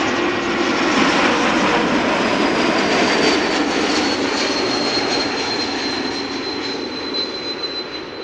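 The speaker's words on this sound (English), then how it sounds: "Typical whistle for geared turbofan engines whenever you hear an E2 or an A320 pass by." An Embraer E195-E2 airliner with geared turbofan engines passes at close range at Amsterdam Schiphol, a broad roar under a steady high turbofan whistle that holds and slowly falls in pitch as it goes by.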